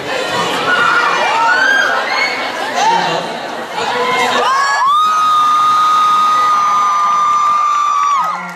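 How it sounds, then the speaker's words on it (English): A large convention crowd screams and cheers, with high shrill shouts and whoops layered into a dense roar that swells to a sustained loud scream in the second half. "Thank you for your screams."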